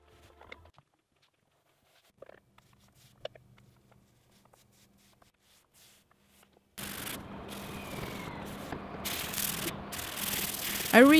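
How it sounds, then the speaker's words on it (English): Quiet handling noises at first, then a steady, close rasping scrape of wood being sanded smooth by hand for a sofa bed, continuing without pause and growing slightly louder toward the end. "I finally sanded everything smooth by hand"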